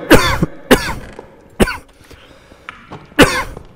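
Four loud, close coughs spaced unevenly, with faint breathing and small rustles in the gaps between them, over Minecraft Fear Nightfall gameplay.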